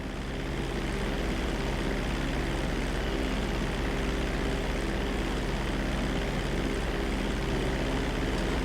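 An airplane taking off in Grand Theft Auto 5, with a steady, loud propeller engine drone and broadband rushing noise that hold constant throughout, close and alone.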